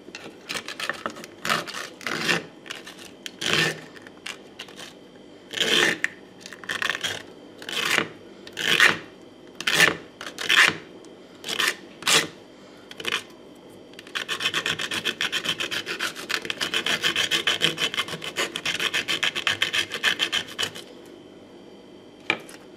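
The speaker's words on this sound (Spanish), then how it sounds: "Ahora pasamos a, otra cámara a lijar las tapitas" Repeated short rasping strokes of hand sanding on small 3D-printed plastic caps, then a longer continuous stretch of steady rubbing near the end.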